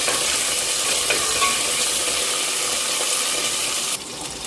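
Curry leaves and halved garlic cloves fry loudly in hot oil while being stirred, giving a steady close sizzle that carries on alone throughout.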